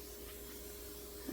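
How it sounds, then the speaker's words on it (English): A spray bottle mists water around the inside of a tarantula enclosure, making a soft, steady hiss that runs unbroken for over a second, fairly faint and with no voices. "I'm going to kind of spray around there"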